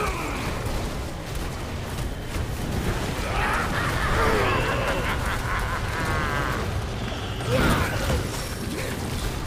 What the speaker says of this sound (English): Corpse explosion dealt a nice amount of damage there.